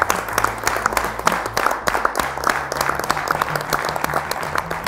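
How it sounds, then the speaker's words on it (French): Applause from the audience of a French talk show, sustained and even for about five seconds, with overlapping claps and faint crowd murmur mixed in. "je crois qu'on peut s'auto-applaudir"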